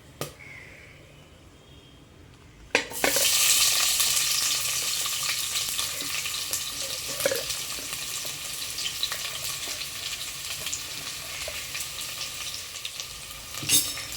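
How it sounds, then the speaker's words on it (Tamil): Onions hit hot oil in a pan while cooking paneer biryani and break into a loud, steady sizzle that continues throughout, with a couple of sharp clicks. "வெங்காயம் வந்து நல்லா வதங்கணும் கொஞ்சமாக உப்பு போட்டு வதக்குங்க"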